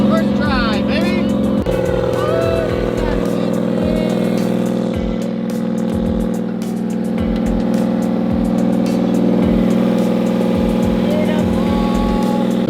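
Subaru WRX hatchback engine starts and settles into a steady idle, a continuous low rumble with repeated low thumps, loud and close, with a voice speaking over it.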